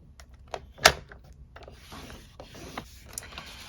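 A scoring tool drags across cardstock with short scraping strokes and one sharp tap, close and quiet, with faint rustling between strokes.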